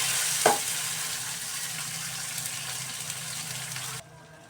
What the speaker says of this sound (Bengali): একদম নেড়ে চেড়ে টমেটোটাকে গলিয়ে নেব।